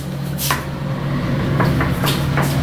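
A sliding bathroom door in a room at Disney's Pop Century hotel is pushed shut and locked, giving a few sharp knocks and clicks over a steady low room hum.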